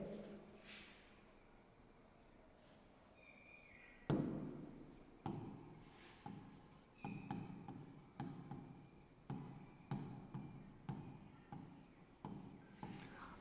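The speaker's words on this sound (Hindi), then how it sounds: "लिखते हैं हेडिंग।" Pen writing a heading by hand on paper, faint close scratching strokes in a quiet room, followed by a series of rhythmic short scribbling and tapping bursts at roughly one-second intervals.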